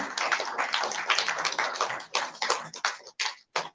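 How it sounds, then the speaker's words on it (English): An audience at a national CSR summit award ceremony applauds an award recipient, dense crowd clapping that thins out and breaks into scattered final claps before stopping. "Can we have a huge round of applause for him?"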